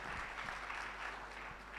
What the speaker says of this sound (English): Please give a clap as he comes.